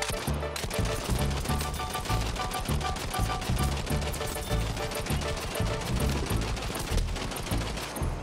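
A light machine gun in a first-person shooter video game fires in long sustained bursts, dense rapid loud shots continuing nearly unbroken throughout.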